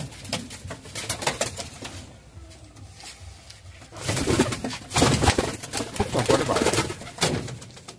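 Dobuzz, Kalanka and Andhra pigeons coo nearby in soft repeated calls, with bursts of wing flapping and clattering scuffles that grow louder in the second half.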